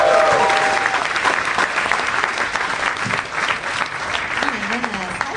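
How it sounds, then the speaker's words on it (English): Audience at a live comedy show claps and cheers for a comedian taking the stage, a loud, sustained burst of applause filling the whole stretch with some crowd noise mixed in. "Big round of applause for Sarah Tolamash, everybody."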